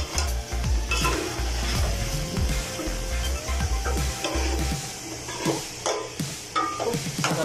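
Biryani spices such as cloves and cardamom frying in a pan while a spoon stirs them, bursts of scraping and knocking over a steady sizzle, close up with no talking.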